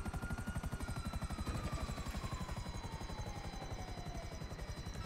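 Video game helicopter in flight during a police chase, loud rhythmic rotor thumping with a high turbine whine that slowly slides downward in pitch, continuous and close, no voices.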